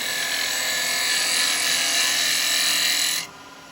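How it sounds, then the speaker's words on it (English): Bowl gouge taking a pull cut on a spinning ash bowl on a woodturning lathe, a steady close hiss of shaving wood that holds for about three seconds and then stops abruptly, with no talking. "that's on a pull cut on this ash, so we don't get the tool marks"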